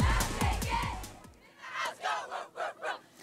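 High school cheerleaders shout a rhythmic chant in unison, loud and close at first, then a series of evenly spaced crowd-backed shouted bursts follow, echoing in a large open setting.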